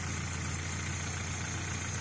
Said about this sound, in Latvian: Motors strādā klusi